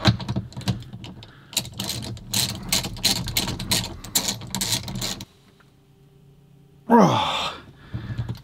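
A ratchet clicks in quick close bursts, tightening a bolt on a Tesla Model 3 or Y yoke steering wheel, then stops, followed by a short scrape and a rustle.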